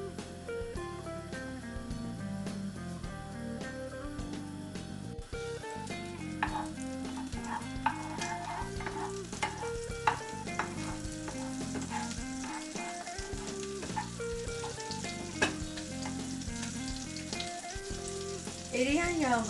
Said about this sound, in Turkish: Tereyağımızı eritelim.